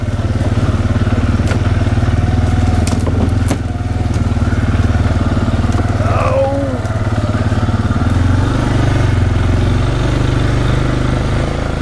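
A Bobcat fitted with a forestry cutter grinds through overgrown farm brush, its loud engine droning steadily while wood crackles and thumps under the cutting head, close up throughout.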